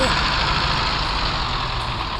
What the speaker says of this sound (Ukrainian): мотор паза б'є по вухах, він, він гучний